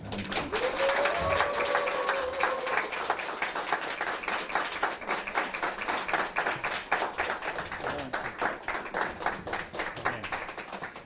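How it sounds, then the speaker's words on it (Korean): A church audience claps to welcome a speaker at a mission school lecture, with steady clapping from a crowd. The rhythm grows more even and fades slightly, and a brief voice is heard near the start. "나올 때 우리 박수로 모두 환영해 주시기 바랍니다."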